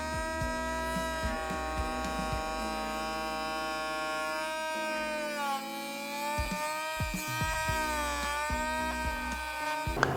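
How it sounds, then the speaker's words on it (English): A small Dremel rotary tool cutting out a faceplate opening in plastic for an LED light relay install, a steady high-pitched whine that dips and rises in pitch as the bit bites and eases, continuous and close. "now I'm going to take my little Dremel and finish it off"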